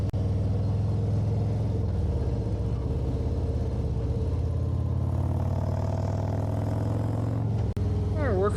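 Steady, loud engine drone and road rumble from inside a car cruising hilly country roads near Sand Creek, Wisconsin, a continuous hum with tire noise and a brief dip near the end.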